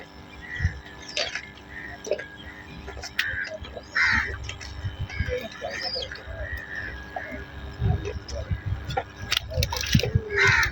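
Many birds, including crows, calling at a bird-filled spot in Chennai, with scattered caws and chirps near and far under people talking.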